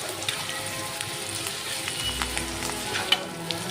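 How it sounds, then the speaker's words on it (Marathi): Onions sautéing in a hot pan for a Latur-style potato bhaji, a steady close sizzle and crackle with scattered light pops, continuous throughout with no talk. "छान असं परतून घ्यायचं आहे पिंकिश कलर येईपर्यंत"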